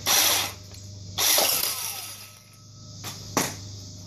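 Ratchet wrench turning a 17 mm nut on a Can-Am Renegade/Outlander engine during a teardown, with two long clicking ratchet bursts followed by a couple of shorter sharp clicks, close up and with no talk.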